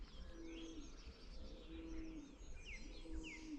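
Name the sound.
robin singing in a cherry tree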